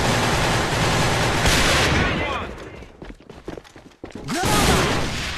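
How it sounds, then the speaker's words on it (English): Gunfire exchanged in a tournament match of the shooter game Alliance of Valiant Arms, with dense bursts of shots early, then a sparser stretch of individual cracks and footsteps before loud firing resumes, a commentator talking over it. "exchanging shots and frags between Mr. Gats and Will Smith"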